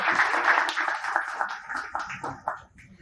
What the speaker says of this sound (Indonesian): berikan tepuk tangan yang meriah untuk Bang Gusti